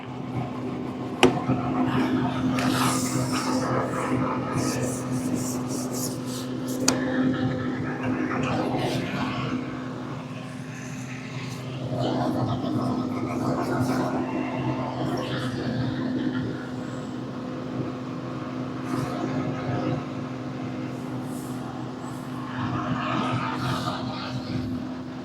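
Tractor engine droning nearby beside a fishing spot, a steady low hum that continues throughout with shifting mechanical noise on top and occasional knocks, moderately loud.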